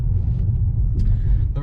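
The inline-six engine of a 2021 Mercedes-Benz E450 rumbles deeply during a launch, a low, steady drone heard from inside the cabin over a short burst with no break in the sound.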